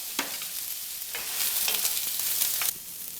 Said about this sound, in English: Now I've sauteed my onions